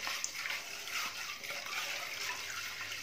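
Water from hand-washing runs into a bucket set in a kitchen sink, giving a steady, fairly quiet splashing stream for a few seconds.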